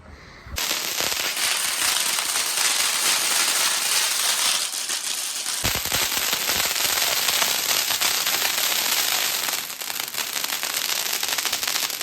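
Diwali firecrackers burst in a long, dense string of rapid sharp cracks and pops, loud and continuous, with a brief lull partway through.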